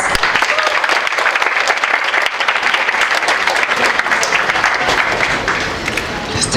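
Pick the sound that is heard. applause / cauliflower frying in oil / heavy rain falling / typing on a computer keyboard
applause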